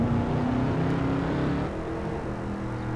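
A powerful car engine roars steadily nearby, its deep rumble shifting slightly in pitch partway through as it holds on the throttle.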